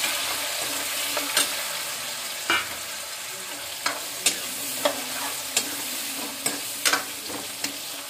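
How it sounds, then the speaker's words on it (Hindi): Grated radish sizzles and fries in hot oil with cumin, mustard seeds and carom seeds, a steady close hiss broken by scattered stirring clicks and spoon scrapes. "जीरा सिक गया हमारा, अब इसमें डाल देंगे मूली।"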